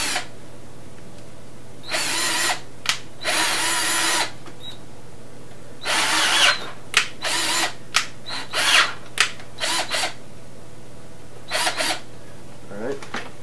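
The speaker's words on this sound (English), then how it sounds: "You're going to drill three holes right here." A power drill bores a series of holes into a shoe heel, several bursts of high whining drilling of a second or two each, some short and some longer, with brief pauses between them, loud and close.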